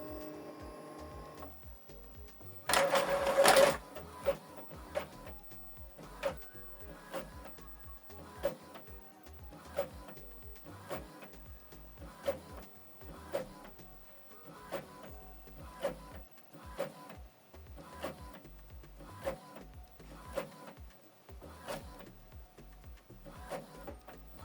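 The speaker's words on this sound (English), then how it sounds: "This document is printing." An Epson WF-2950 inkjet printer printing a one-page document, with a steady run of evenly spaced mechanical clicks and whirs after a short louder whir near the start, quiet and close, no talk.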